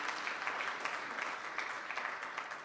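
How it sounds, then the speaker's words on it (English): A round of applause from an audience at a German industry and commerce delegation event in Eastern Africa: continuous, fairly soft clapping from a crowd, with no voices over it. "Give her another round of applause."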